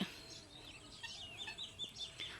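Native country chickens giving faint, scattered chirps and clucks at a distance, over a quiet outdoor background with no talking.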